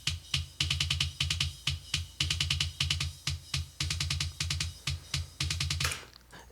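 A kick drum with a 3 kHz EQ boost thumps in a fast repeating pattern, each hit carrying a sharp clicky attack, played close and alone before a cymbal splash at the end.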